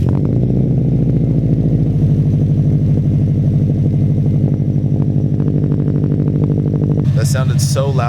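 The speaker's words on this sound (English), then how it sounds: "That sounded so loud because I put my head next to the exhaust" Subaru STI exhaust heard close up, a loud, rough idle with a steady throbbing pulse that runs throughout, ending with a brief clatter and rattle.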